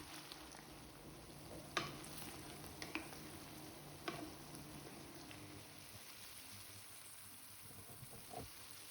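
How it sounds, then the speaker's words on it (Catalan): Onions sizzle quietly in hot oil over high heat while a utensil scrapes and stirs the pan now and then, producing a few soft clacks. "anar fregint, anar removent."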